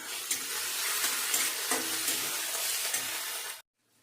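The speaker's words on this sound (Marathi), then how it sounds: "पेस्ट छान परतून घेते।" Ginger, garlic and green chilli paste sizzles loudly in a hot pan while being stirred for a gram-leaf bhaji, a steady broadband frying hiss with a few scraping clicks, ending abruptly in silence.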